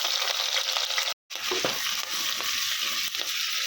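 Curry leaves and cumin fry in hot oil for palak paneer curry, with a loud, dense, close crackling sizzle that cuts out briefly and then resumes steadily with faint stirring knocks.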